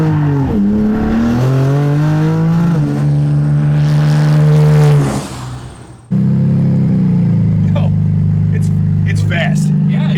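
A Hornet car's turbocharged engine revs and pulls hard on boost, its loud rising and falling tone heard up close from inside, with people talking over it.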